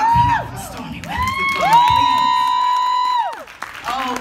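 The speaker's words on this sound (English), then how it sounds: "Y'all clap for Stormy" An audience at a weight-loss talk cheers and whoops loudly, with shouting voices rising above the crowd for a few seconds before settling back down.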